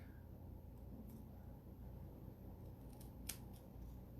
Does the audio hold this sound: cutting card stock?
yes